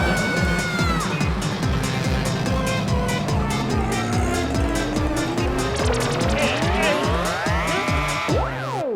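Cartoon auto rickshaw racing along at high speed in an animated comedy series, a loud continuous engine whine with tire squeals and rising revving sweeps throughout, busy and dense with no talk.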